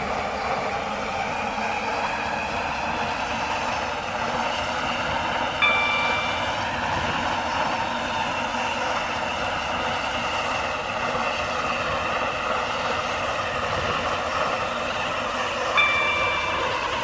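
A passenger train in the Roblox game Stepford County Railway hums and rumbles steadily along the line, with a continuous even drone and two brief faint electronic tones.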